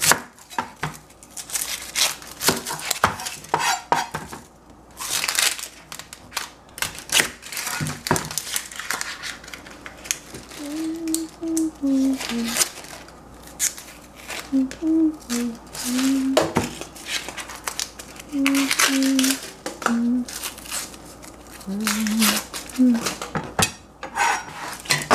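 Onion is chopped on a board in a home kitchen, with steady rapid knife taps in bursts, close and crisp, while a voice talks intermittently over the cutting.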